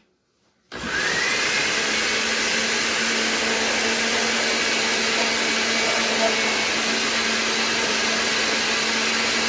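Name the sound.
blender running on high speed emulsifying pork belly fat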